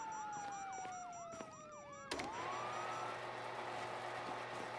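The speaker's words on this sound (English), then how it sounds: "you hear that? Sirens." Police sirens in GTA 5 wail with rising and falling yelps, then cut off with a sharp thud as a deep engine-like hum and hiss take over.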